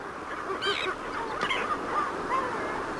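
Kelp geese honking on rocks near kelp beds on the coast at the southern tip of Chile, several moderately close, repeated calls over a steady background of surf or wind.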